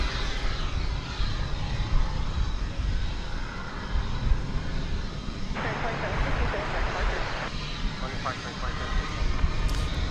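An American Airlines plane at DFW Airport roars steadily and loudly throughout, a continuous engine rumble that stays near, with a voice talking over it.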